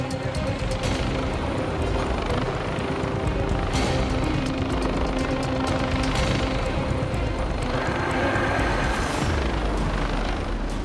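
A rescue helicopter hovers near a cliff while a critical care paramedic is winched onto the rocks, its rotor roar loud, close and continuous throughout.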